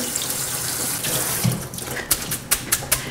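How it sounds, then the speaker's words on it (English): Cold tap water rinsing cooked orzo pasta in a sink, a steady close splashing stream, followed by several sharp, rhythmic shakes and knocks as the colander is handled. "hit the pasta with cool water to cool it down"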